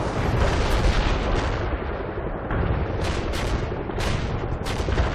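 Heavy artillery fire support in the World in Conflict strategy game, with dense continuous rumbling blasts and bursts of gunfire layered together, loud and close, plus sharp cracking impacts punching through the roar.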